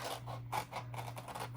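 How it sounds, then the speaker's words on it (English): Scissors cutting out paper pieces for journal dangles, a short run of soft, close snips and scratchy paper rustles over a steady low hum. "I just want to get all of the pieces cut out so that we can cut them individually, cut around them"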